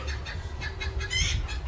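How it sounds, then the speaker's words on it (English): Laying hens in a small greenhouse coop cackle loudly in repeated rhythmic bursts, close to the listener, with a steady low hum underneath. "As you can hear, the chickens are laying"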